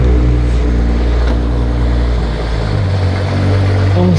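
A twin-turbo manual car with a rotary 13B engine idles loudly and close, a deep steady rumble with a slight dip in tone midway.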